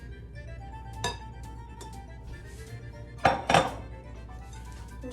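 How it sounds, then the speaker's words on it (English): A utensil knocks and clinks against a bowl while tiramisu cream is folded into egg yolks, a few sharp close taps spaced over a quiet kitchen background. "Just gently stir it in"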